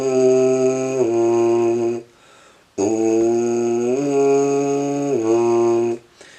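A tuba plays a warm-up of sustained brass tones, starting on a middle note and stepping upward, in two long phrases separated by a brief breath, loud and close.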